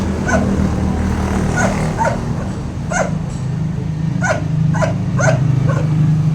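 A dog barks repeatedly in short, sharp yips, several bursts spaced across the moment over a low background hum.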